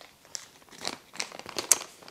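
A tea packet crinkles as it is handled, giving a series of soft, irregular plastic rustles and crackles close by, with one sharper crackle near the end.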